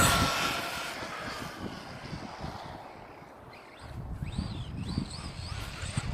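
An Arrma Typhon 3S 1/8-scale RC buggy runs at full throttle with a rising electric motor whine, rushing wind noise and a pitch that sweeps up and down as it passes, first loud and near and then farther off.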